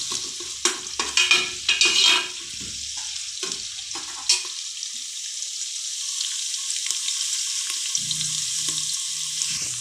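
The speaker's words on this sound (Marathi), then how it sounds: "कांदा घातल्यानंतर मीठ लगेच टाकलं की कांदा लवकर फ्राय होतो" Onions fry with salt in a pan for a whole masoor dal, opening with several close scraping stirs and clatters of a spoon, then a continuous hiss of sizzling that settles into a steady background.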